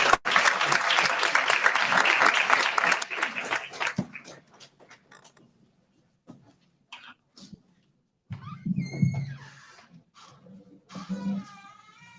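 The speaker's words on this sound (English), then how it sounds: "Please give them another round of applause" Audience applause at a panel discussion on climate and environmental justice in Harlem fills the first four seconds, then fades to scattered claps, followed by quiet room noise and a voice speaking.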